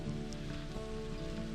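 Rain falling on a parked car high on the Cherohala Skyway, a steady dense patter with a low idling hum beneath, with no voices.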